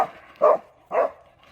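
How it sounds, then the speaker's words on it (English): A dog on a Big Bear hiking trail barks twice in quick succession, sharp, close and fairly loud, with quiet gaps around each bark. "Here comes a dog."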